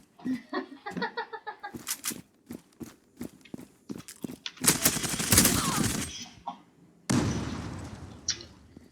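MPT-76 rifle fire in the online shooter Zula comes as a rapid string of sharp cracks, followed by denser bursts of noisy in-game action. The shots are clipped and loud, and a second dense burst breaks off near the end.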